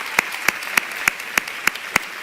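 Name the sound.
audience applause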